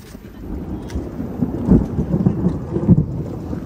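Heavy thunder rumbles loudly in front of a house across a road, with low booming rolls swelling around the middle of the clip and again near the end over a steady background of rain.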